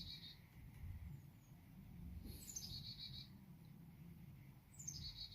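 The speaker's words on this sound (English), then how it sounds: "All right, birds." Birds chirp outdoors at a tailgate, with short high calls and trills at intervals over a steady low rumble of background noise.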